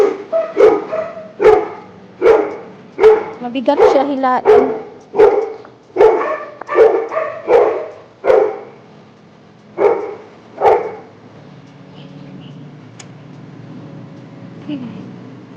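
A dog barks repeatedly in short, loud bursts at a steady pace, then falls quiet, with faint background noise after.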